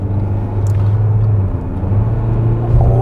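A 2019 SsangYong Korando diesel cruises slowly at night, heard from inside the cabin as a steady, quiet low engine and road rumble with a smooth, even hum and no voices.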